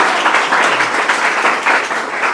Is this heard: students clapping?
yes